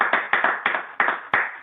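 A few pairs of hands clap in an irregular, close rhythm at a benefit event, individual sharp claps clearly separated rather than a full crowd roar.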